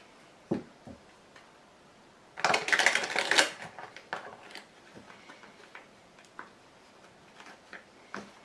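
Tarot cards being laid out and shuffled during a reading, a brief dense burst of card riffling near the middle amid scattered soft taps and clicks of cards placed on a table, close and fairly quiet.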